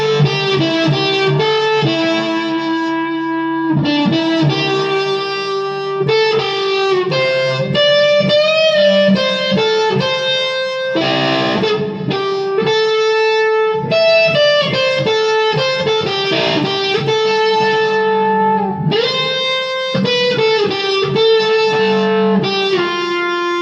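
An electric guitar played on single-coil pickups through a cheap Frenzy fuzz pedal from AliExpress, at full gain. It sounds saturated and buzzy, with sustained chords and melodic lines ringing out continuously and loudly, and no talking.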